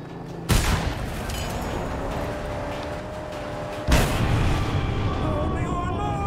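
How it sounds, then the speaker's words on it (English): Shotgun blasts in the Mad Max video game, two loud sharp booms about three seconds apart, each followed by a rumbling tail over steady engine and game background noise. "Shotgun."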